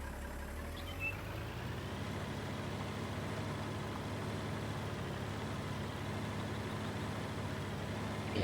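A tractor engine drones steadily while ploughing a field in Farming Simulator 19, a low, continuous, even rumble with faint higher harmonics and no talk over it.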